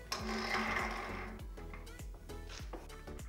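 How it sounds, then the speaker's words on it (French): A bearing press being tightened to seat a new bearing in a mountain bike wheel hub, giving a run of rapid mechanical clicks and ratcheting metallic ticks, close and continuous over several seconds, with no talking. "on vient serrer la presse jusqu'à ce que le roulement soit bien au fond de son logement"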